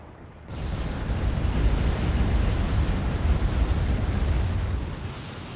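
Artillery in the war game Endless War sends out a sustained, rumbling roar of heavy fire, loud and dense, rising after a brief quiet start and fading slightly toward the end.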